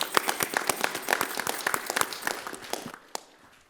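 A crowd at an annual council meeting applauds with dense, steady clapping that tapers off and fades out near the end.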